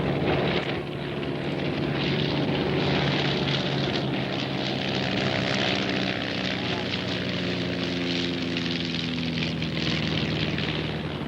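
An antique propeller aircraft at an air race in Reno flies overhead, its engine drone loud and steady throughout with a slowly shifting pitch and no talk.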